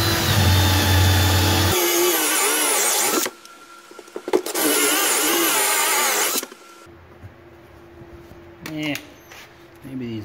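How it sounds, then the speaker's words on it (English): A power drill drives a step bit through a hole for pontoon boat wiring in two loud, sustained whining bursts separated by quieter pauses, close by, with someone talking in between. "But I'm going to use one of these step bits."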